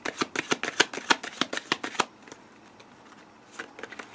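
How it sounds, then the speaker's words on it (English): A deck of playing cards is shuffled in about a dozen quick, crisp riffles over two seconds, fairly close and clear, then goes quiet apart from a few faint flicks near the end. "I can't talk and shuffle at the same time."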